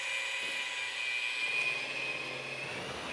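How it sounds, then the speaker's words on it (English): Small drill mixer blending Venetian plaster material, a steady high-pitched whine with a faint droning undertone, continuous and fairly quiet throughout. "Take a little drill mixer and just go ahead and blend up the material"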